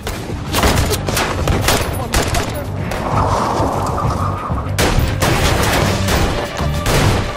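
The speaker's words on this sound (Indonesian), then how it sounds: "tembakan James berhasil membuat mobil mereka menabrak penghalang jalan" Bursts of gunfire crack out in several volleys amid loud, chaotic action noise and thuds.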